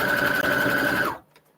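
A sewing machine stitching a quilt runs in a fast, steady whir close by for about a second, then stops abruptly, leaving near silence.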